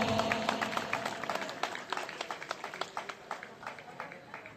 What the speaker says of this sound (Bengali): জোরে হাততালি দেওয়া হোক।